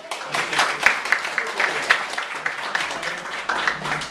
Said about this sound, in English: Please give a warm round of applause for Thomas J. Bellezza.